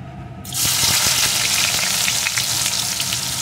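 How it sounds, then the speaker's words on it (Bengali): Chopped onion hitting hot white oil in a wok for egg vegetable Maggi, a sudden loud sizzle that bursts in after a quiet moment and keeps crackling steadily up close, with a few stirring scrapes. "পেঁয়াজ কুচিটা একটু ভেজে নেব"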